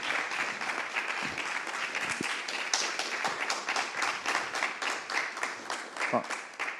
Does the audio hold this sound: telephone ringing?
no